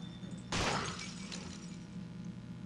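Glass shatters in the video game Clock Tower 3, one sudden bright crash with fragments trailing off over about a second, set against a quiet low hum.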